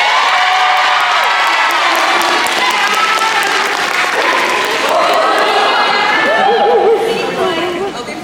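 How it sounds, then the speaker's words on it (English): Crowd at a friends-and-family dance night claps for a graduate, loud sustained applause mixed with cheers, whoops and excited shouting voices, fading slightly at the end. "Everyone clap for NYU grad."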